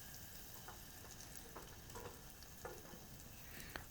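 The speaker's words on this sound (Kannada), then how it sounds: "ಸ್ವಲ್ಪ ಎಣ್ಣೆ ಬಾಯ್ಲಾಗ್ತಿದ್ದಂಗೆ ಅದಕ್ಕೆ ನೀವು ಫಸ್ಟು ಈರುಳ್ಳಿ ಹಾಕೋಬೇಕಾಗುತ್ತೆ" Chopped onion hitting hot oil in a pan for chicken sambar, giving a steady close sizzle with light stirring scrapes and occasional ticks, no talking.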